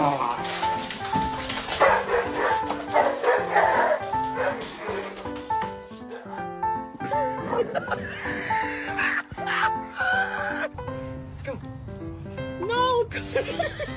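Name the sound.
puppy barking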